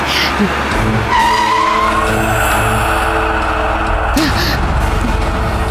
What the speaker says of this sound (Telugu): కారు ఆపండి.